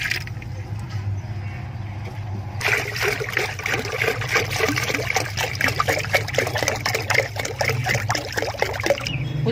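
Continuous trickling and splashing of water poured into a chicken waterer, steady and close, beginning a few seconds in after a quieter start, with low background hum throughout.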